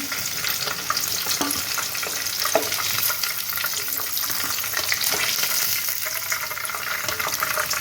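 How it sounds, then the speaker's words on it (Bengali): Chicken pieces deep-frying in hot oil over a high gas flame for chicken fry biryani, a steady loud crackling sizzle throughout with occasional sharper pops and stirring clinks, no talking. "বাকি চিকেনগুলো আমি এইভাবে ভেজে নেব"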